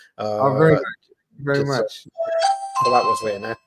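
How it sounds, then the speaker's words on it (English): A home doorbell chimes briefly with a couple of ringing tones, partly overlapping lively conversation between men. "That's my doorbell going."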